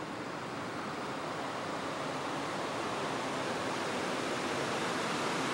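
Creek water rushing steadily near an old rusty bridge at an RV park in Adel, Iowa, a dense, continuous broadband roar with no breaks, loud and close.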